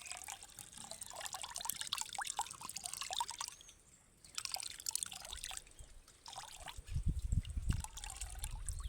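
Liquid pesticide poured into a container while mixing sprays for a lemon orchard, a steady soft splashing trickle with small drips, faint and close, briefly pausing midway before continuing.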